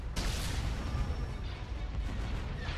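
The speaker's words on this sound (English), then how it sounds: "Yeah, heavy turbos, heavy laser cannons." Heavy turbolasers and laser cannons fire in a Star Wars space battle game mod, a loud sharp burst followed by a dense rumbling barrage of blasts and booms.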